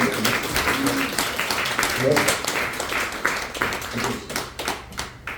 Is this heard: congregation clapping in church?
yes